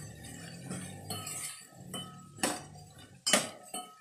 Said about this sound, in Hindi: इसे एक बार अच्छी तरह से मिक्स कर लेंगे